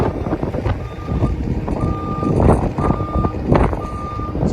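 A truck reversing outdoors on a windy day, its backup alarm sounding four evenly spaced loud beeps over a rumbling engine and gusting wind noise.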